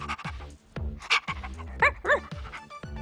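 A cartoon puppy in the Barbie Puppy Rescue video game gives a string of short yips and little barks with whimpery tones, close and clear over light game sounds.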